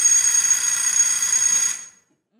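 Alarm clocks ringing in a stage play, a loud continuous bright electric ring that holds steadily for nearly two seconds and then cuts off abruptly into silence.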